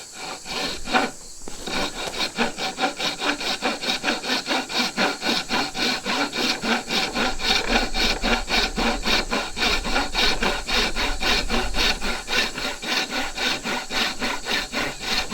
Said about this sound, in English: that's where I'm going to take my dovetail saw and make my cuts here and here